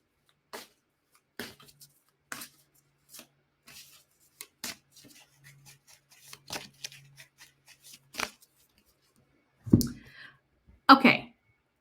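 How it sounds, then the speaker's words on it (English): Tarot deck being shuffled by hand, a series of separate crisp riffles and taps spaced irregularly, close and quiet, with a couple of louder bursts near the end. "been shuffling this deck for quite some time while I was doing my little intro"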